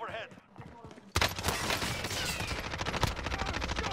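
Sustained rapid gunfire from a multiplayer shooter video game erupts suddenly after a quiet stretch and continues as dense, loud bursts, with players talking over the shooting.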